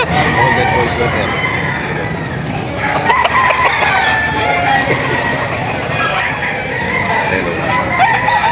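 Roosters crow repeatedly amid clucking chickens at a busy livestock auction in Padre Garcia, Batangas. The crows come over a constant loud din of fowl and crowd noise, with voices talking underneath.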